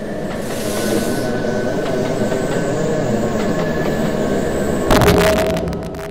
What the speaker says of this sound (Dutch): Excuses voor de matige geluidskwaliteit van deze trein.